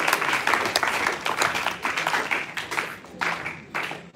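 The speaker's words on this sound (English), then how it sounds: "with a round of applause, let's welcome Kanako Joe" Audience applause welcoming a speaker at a Pan African university lecture series evening, steady dense clapping that swells and dips over a few seconds, close and fairly loud, with faint voices mixed in.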